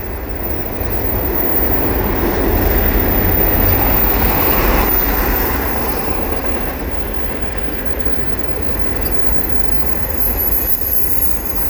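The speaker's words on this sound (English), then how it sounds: "Waiting for a train heading west." A CN freight train of auto rack cars, led by an AC44C6M locomotive, rolls past at Valois in Montreal: a loud, steady rumble of wheels and cars that swells slightly, then holds throughout with no talk.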